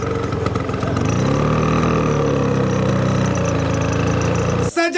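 A scooter engine runs with a low, loud rumble whose pitch rises and falls as it idles, then cuts off abruptly just before the end.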